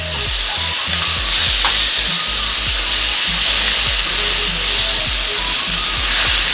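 Garlic and tomato sautéing in a pan for an eggplant and potato curry, a steady close sizzle with stirring scrapes running the whole time, no voices.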